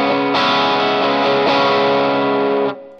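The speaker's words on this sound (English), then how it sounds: "Here's with the distortion set to about 9 o'clock." Sustained distorted electric guitar chords through a Greenchild Tribus Drive pedal with distortion at about 9 o'clock, ringing out, with a couple of fresh strums, then cutting off abruptly near the end.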